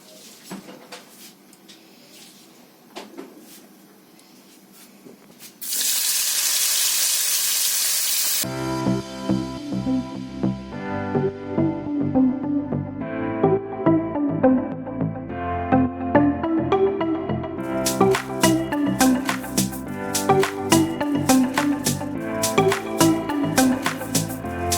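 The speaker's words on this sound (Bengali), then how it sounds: "তো বন্ধুরা আমি পেঁয়াজটা ভেজে নেব।" Onions fry in hot oil in a pan that was just used to brown fish: a loud, steady sizzle after some clatter from handling the pan, with no talking.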